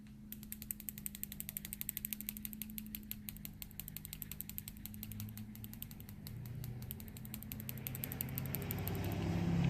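A capped bottle of pearlescent custom enamel is shaken hard, giving a fast, steady rattling click that runs unbroken for about ten seconds and grows louder toward the end.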